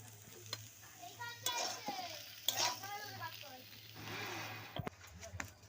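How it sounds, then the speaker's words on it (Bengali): Beetroot and carrot are fried and stirred in a pan, with soft sizzling, scraping and a few sharp clicks of the utensil, while a person talks over it. "ভাজাটা আমি এবার নামিয়ে নিচ্ছি।"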